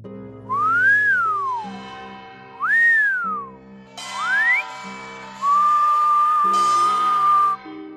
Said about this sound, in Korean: 밤만 되면 귓가에 휘파람 소리와 함께 꽹과리 소리까지 울려 퍼졌고